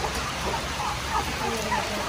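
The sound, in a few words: heavy rain pouring down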